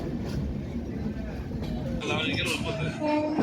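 Passenger train running fast on the Araku Valley line, a steady broadband rumble and rattle of carriages filling the space, with voices talking over it and some higher squeals near the end.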